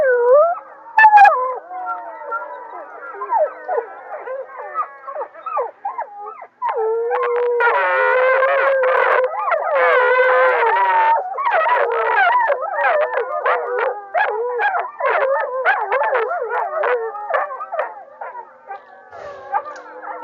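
Canine howls with wavering, sliding pitch, first a few drawn-out calls, then a dense chorus of overlapping howls and quick yips rising and falling, loud and sustained with no talking.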